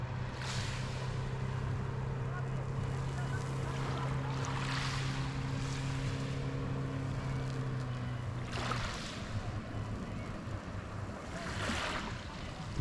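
A motorboat towing a water skier on clear water at Oludeniz Blue Lagoon, a steady engine drone under wind and lapping waves for the whole stretch, moderately distant with no talk.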